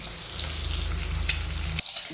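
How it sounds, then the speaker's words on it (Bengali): Eggs sizzle and crackle steadily in a hot pan, a close, continuous frying hiss that briefly drops away near the end. "ডিমগুলোকে আমি লাল লাল করে ভেজে নেবো"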